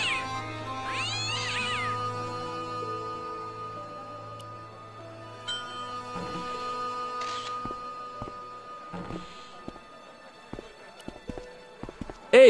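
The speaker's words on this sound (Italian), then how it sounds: "Il gatto era bruttissimo e si comportava come se quel pezzo di carne fosse stato suo." A cat in the Broken Sword point-and-click adventure game meows and caterwauls in drawn-out calls over a steady low background. Later come scattered soft footsteps and small knocks.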